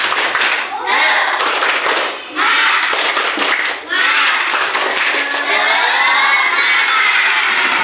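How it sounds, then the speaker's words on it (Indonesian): Students in a classroom clap and shout a rhythmic spirit chant together, loud and close, with bursts of claps and children's voices filling the whole stretch. "kita tepuk semangat dulu ya"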